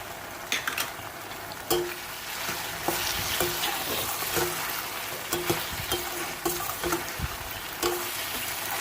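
Potatoes sizzle steadily in a pan with crushed green chilies while a utensil stirs them, sharp scraping clicks recurring every second or so over the constant frying hiss.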